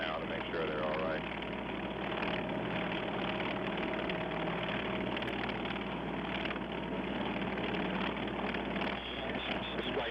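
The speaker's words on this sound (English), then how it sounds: "The engines being raced now to make sure they're all right." Aircraft engines run up on an aircraft carrier deck after the Apollo 8 recovery, a steady droning roar with a broadcast commentator talking over it.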